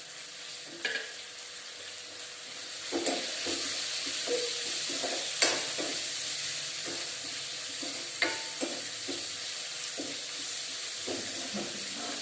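Onion with curry leaves and salt frying in a pan for poori curry, a steady faint sizzle with occasional stirring clinks and scrapes spaced through.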